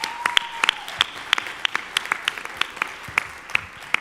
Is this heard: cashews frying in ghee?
no